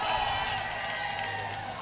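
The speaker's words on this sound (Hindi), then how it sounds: "एक बार मेरे लिए और ताली बजाइए सब लोग" An audience at a mushaira poetry gathering claps and cheers in a dense, continuous burst of applause that stays loud for the whole moment.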